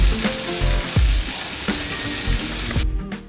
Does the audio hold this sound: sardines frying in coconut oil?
yes